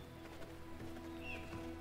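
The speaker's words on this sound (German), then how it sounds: "Hier gibt es wieder Pferde." Faint hoofbeats of horses in the video game V Rising clop along under a steady hum, with a soft whinny-like call near the end; no one speaks.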